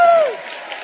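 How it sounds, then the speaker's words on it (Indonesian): Applause and cheering from a crowd at a comedy event, a steady wash of clapping filling the short moment after a tonal whistle-like sweep fades. "Sekali lagi beri tepuk tangan yang meriah untuk Bro Roni Manuel."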